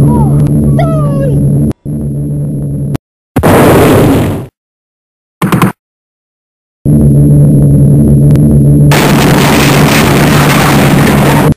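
A bomb explodes during a low-flying aerial fight in an animated film. Loud broadband bursts cut in and out abruptly, then a sustained roaring blast swells over a low engine drone.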